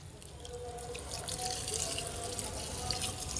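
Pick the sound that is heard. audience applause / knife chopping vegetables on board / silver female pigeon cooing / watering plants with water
watering plants with water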